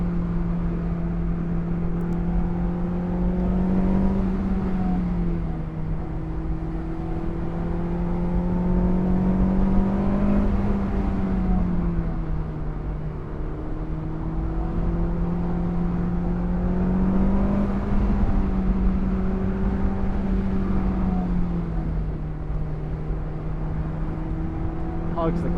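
Honda S2000 AP2 engine revving steadily while driving, a loud sustained drone with rising and falling pitch sweeps as the revs climb and ease, continuous and close for the whole stretch.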